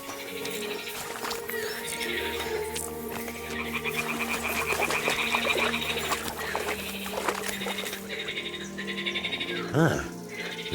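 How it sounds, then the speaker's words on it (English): Toads croak in a dense outdoor ambience in Kingdom Come Deliverance 2, their steady chorus running under layered game sound throughout, with a brief louder swell near the end. "Ah, the toads are croaking here."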